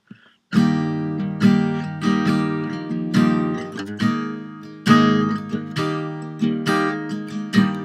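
Strummed guitar chords ring out one after another in a slow, even progression, each strum decaying before the next, played alone, from "Hard Times Come Again No More."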